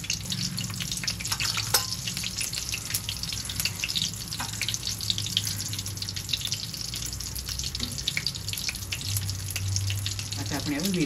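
Mustard seeds and cumin crackle and sizzle in hot oil as asafoetida goes in, a steady close frying hiss with scattered pops, a voice talking over it.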